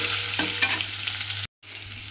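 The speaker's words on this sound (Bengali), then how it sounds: "এবারে চালটা দিয়েও কিন্তু এই তেলের মধ্যে একটু ভাজা ভাজা মতো করে নিতে হবে" Gobindobhog rice frying in oil for a vegetarian pumpkin dish, a steady close sizzle with soft stirring scrapes, cut off by a brief silence before the sizzle resumes.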